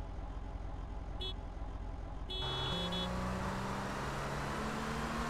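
A car horn in a GTA MTA roleplay street race before a Nissan GT-R run, giving a short tone burst over steady engine and traffic noise, followed by longer sustained honks.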